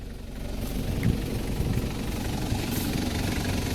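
A Toyota Hilux Surf's 1KZ turbo-diesel engine idles steadily at close range, a continuous low rumble with a faint knocking pulse and no talk over it.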